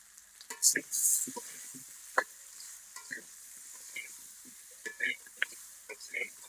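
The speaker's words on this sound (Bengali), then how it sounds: "আলু লাল লাল করে ভাজা নেব।" Soft frying sizzle of potatoes in a pan with intermittent scraping and clinking from a spatula stirring, fairly quiet and close.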